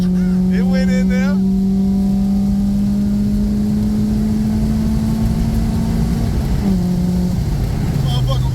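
A Honda Accord wagon with an F20B engine swap pulls hard, its engine note climbing steadily, dropping briefly on a gear change, then rising again from inside the cabin. People talk over the engine.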